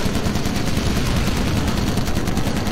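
An aircraft tail gun fires nonstop in the Call of Duty: United Offensive World War II shooter, a loud, dense, continuous rattle of rapid machine-gun fire with no pauses.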